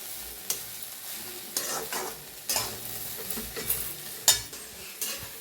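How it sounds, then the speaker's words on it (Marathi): Cluster beans fry in a pan while a spatula stirs them, producing a steady sizzle broken by repeated sharp scraping and clinking strokes at irregular intervals, close and loud, with no voices. "असं छान भाजून घ्यायची बघा गवारी गवारी जेवढी छान भाजील तेवढी छान भाजी होणार आपली"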